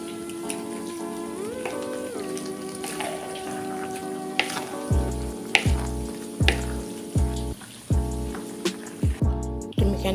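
Sambal goreng kentang with rambak crackers frying in a wok for a large batch, a steady sizzle and crackle of oil throughout, with rhythmic clanking of a spatula against the pan in the second half.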